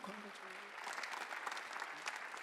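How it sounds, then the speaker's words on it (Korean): A church congregation claps together during a Sunday worship service at a Korean church, a dense steady patter of many hands filling the room, faint and distant, with a voice briefly heard at the start. "박수로 영광을 돌리시기 바랍니다"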